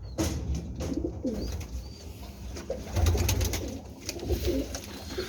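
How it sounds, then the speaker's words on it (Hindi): Pigeons coo in a backyard loft of fancy breeds, low rolling calls repeating close by and overlapping, with a few brief chirps mixed in and no voices. "मेरा बड़ा कबूतर है"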